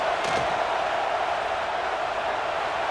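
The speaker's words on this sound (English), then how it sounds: "This crowd trying to do its part to get inside the kicker's head." A stadium crowd roars in College Football 26 as the field goal unit lines up for a kick, a steady, dense wash of distant cheering and yelling that holds without a break throughout.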